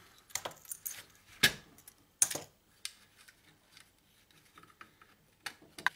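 Wire is snipped and tugged out of the rat's nest inside a vintage rotary phone being scrapped, a scatter of sharp clicks, snips and metallic rattles, close and quiet, with no voice.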